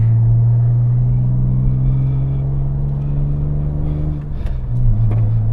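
A manual Mitsubishi Galant nicknamed the Ray-Ban drives along with a steady low engine drone heard from inside the cabin, with a brief shift in pitch near the end as the revs change.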